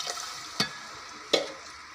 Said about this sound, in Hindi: यखनी ऐड कर दी मैंने